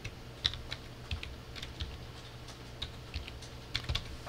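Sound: typing an IP address on a computer keyboard

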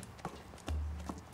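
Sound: horse hooves clip-clopping while walking

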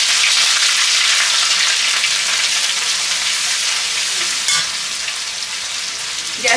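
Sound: cumin, ginger and garlic frying in a pan

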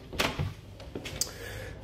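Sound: UPVC door being opened

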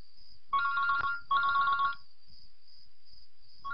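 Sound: phone ringing

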